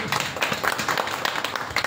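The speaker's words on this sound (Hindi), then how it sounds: "हम सब एक बार जोरदार ताली से पहले उनको ये करें" An audience at a community organisation's workers' meeting claps together, with steady, dense applause that holds evenly throughout and sounds fairly loud and close.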